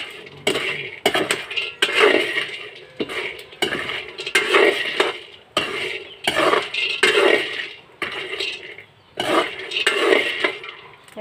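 A spoon scrapes and clinks against a metal cooking pot in repeated stirring strokes, each pass a rhythmic burst of scraping with short pauses between, close and clear with a faint sizzle beneath.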